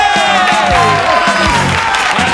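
A television studio audience cheers and applauds loudly for a brief burst. Whoops and shouts rise over dense clapping, with music underneath.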